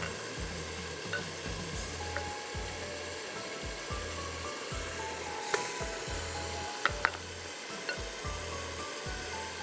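Food sizzles in a pan while a spoon stirs trotters into thick masala for haleem in a steady rhythm, scraping and squelching with occasional clinks.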